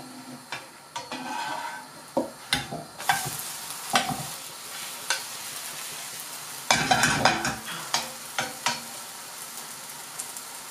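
Pancake batter frying in a pan over medium heat, a continuous soft sizzle punctuated by sharp scraping and tapping of a utensil against the pan, close and clear with no talking.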